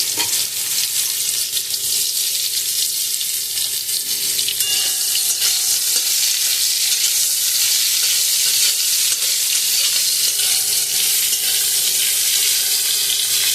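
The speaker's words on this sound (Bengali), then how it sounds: "এবার ওই তেলেই নুন হলুদ মাখিয়ে রেখেছিলাম উচ্ছেগুলো ভেজে নেব" Bitter gourd pieces coated in salt and turmeric fry in hot oil, giving off a steady, dense sizzle that runs close and unbroken throughout with no talking.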